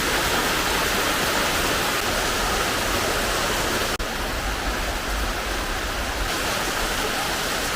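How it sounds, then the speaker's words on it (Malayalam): Steady, dense rush of heavy rain, loud and continuous throughout with no voices, one brief click near the middle. "മഴ നല്ല ശക്തിപ്പെട്ടുകൊണ്ടിരിക്കുകയാണല്ലോ"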